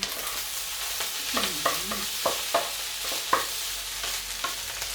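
Fried rice with fermented Thai pork sausage scraped and tipped from a pan onto a plate, with short clinks of a spatula, soft scraping and a faint sizzle in the background, all heard alone without talk.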